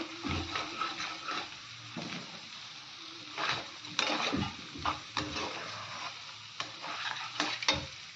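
Fried potatoes tipped into a pan of paneer curry, where the oil has already separated, bringing a soft sizzle with scraping and stirring clatter in uneven bursts, close and moderately quiet, with no talk.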